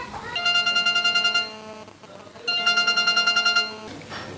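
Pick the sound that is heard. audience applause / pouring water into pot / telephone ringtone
telephone ringtone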